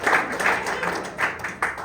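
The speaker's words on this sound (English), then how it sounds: "Clap your hands if y'all know" A comedy club audience claps briefly in scattered bursts, several separate swells of hand clapping of moderate loudness, with no talk.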